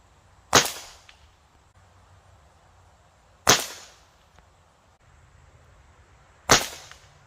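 An Umarex Komplete NCR air rifle fires three Diablo pellet shots at a test range, each a sharp, close crack evenly spaced about three seconds apart with quiet in between.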